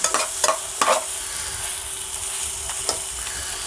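Eggs cook in a pan with pickled shiso outdoors, sizzling steadily while a utensil scrapes and stirs them in a few sharp strokes, close and clear with no talk.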